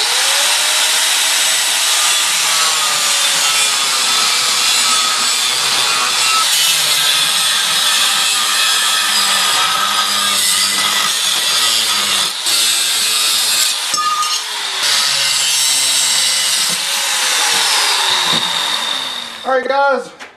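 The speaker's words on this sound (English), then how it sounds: "We don't have a new grinding disc, but we might as well use this one up." A grinder with a worn disc cutting along a line, a loud, harsh, continuous abrasive screech with small shifts in pitch as it bites the metal, close and steady for about twenty seconds.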